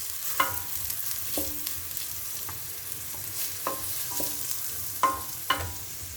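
Chopped onions frying for keema, a soft continuous sizzle under sharp spoon-on-pan scrapes and clinks recurring at irregular intervals as they are stirred, close and moderately quiet.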